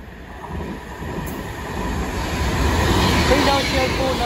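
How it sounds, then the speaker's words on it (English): An Avanti West Coast Class 390 Pendolino runs through Stafford with a steady rumble that grows louder as it approaches, with no one speaking. "10:45, Avanti West Coast Pendolino service from London Euston to Glasgow Central."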